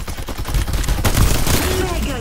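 Rapid gunfire in the battle game Farlight 84, a loud burst of shots with a sharp crack about halfway through, then continued firing mixed with game effects.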